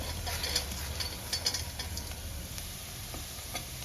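Deep-fried crispy corn stirred in a hot pan, with scraping and light clicking ticks over a steady low frying hiss, close and moderately loud, no talk.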